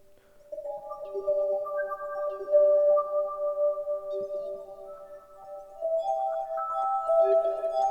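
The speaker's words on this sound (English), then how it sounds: "There is also an arpeggiator" The arpeggiator of a ROLI Seaboard Block synthesizer repeats bright notes in a quick, even pattern, chiming and bell-like, with the line climbing higher and thickening toward the end.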